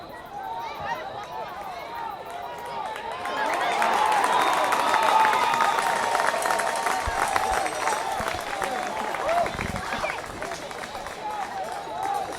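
Crowd noise at a high school game between Perryville and Ste. Genevieve at Ste. Genevieve High School, swelling midway into a sustained roar of cheering and clapping, heard from within the stands with voices mixed in.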